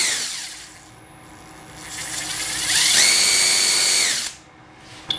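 A DEVON cordless drill spinning freely in torque mode, its high whine ramping up, holding at a fast steady speed, then cutting off abruptly near the microphone with no talking.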